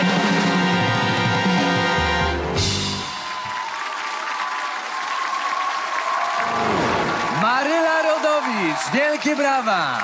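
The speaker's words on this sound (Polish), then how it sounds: "Wielkie brawa!" Studio audience on a Polish television entertainment show breaking into applause that rises after a music cue ends, dense clapping under a loud host voice and sustained tones.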